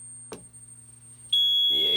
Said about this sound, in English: that puts the panel in trouble. And that's what Mircom panels sound like.